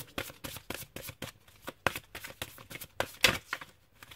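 Tarot cards are shuffled in quick, uneven bursts of crisp riffling and flicking, close and fairly loud, with short pauses between passes and no talk.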